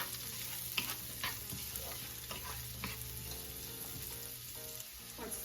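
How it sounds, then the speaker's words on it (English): Precooked sausage crisps in a hot pan with a steady close sizzle, broken by scattered pops and the clicks of a spatula stirring now and then. "I'm just gonna toss it in here, warm it through, and just maybe get a little crisp on it."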